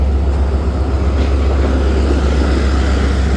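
The 28 Down Shalimar Express pulls into Multan Cantt station behind locomotive 6315, a loud, steady rumbling roar of wheels and engine filling the whole stretch with no voices.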